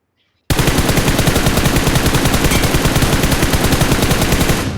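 Rapid automatic gunfire in PUBG Mobile bursts in after a brief silence and continues as a loud, evenly spaced stream of shots to the end, with no talk over it.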